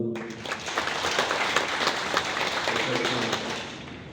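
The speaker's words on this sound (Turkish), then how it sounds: "Şöyle güzel bir alkış alıyorum" Loud, dense applause from a crowd at a family gathering fills the space, steady and close, with scattered sharper claps standing out before it eases slightly at the end.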